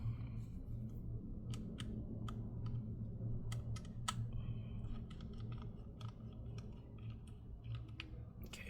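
Small screws being removed from a OneXPlayer OneXFly F1 Pro handheld gaming device, producing quiet, irregular clicks and taps close by over a low background hum.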